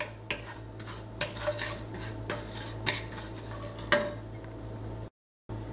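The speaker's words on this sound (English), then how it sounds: "1 teaspoon black seeds. Saute this." Black seeds saute in a pan with a soft steady sizzle, broken by several light scrapes and clinks of a utensil against the pan, close and quiet with a low hum behind.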